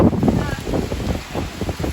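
Hurricane Sally's wind and rain in Fairhope, Alabama, a continuous rough roar of gusts buffeting close to the microphone with rain hiss mixed in, no talk over it.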